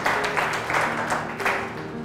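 A church congregation claps in praise of the Lord, a steady, dense patter of many hands close by with a faint voice underneath, lasting about two seconds.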